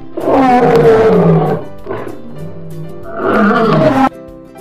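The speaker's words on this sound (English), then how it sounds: "Lion." Two loud lion roars from a children's wild-animal toy play clip, each a long rumbling bellow with a short grunt between, near and dominant with no talk.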